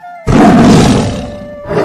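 A lion in an animated Hindi moral story lets out one loud, close roar that swells suddenly and trails off over about a second and a half, standing alone with no voices.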